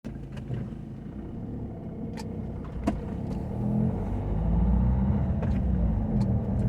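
A red car turning right at a traffic light on a street in La Roche-sur-Yon, France, heard as a steady road rumble that grows slightly louder toward the end, with faint ticks and no talking.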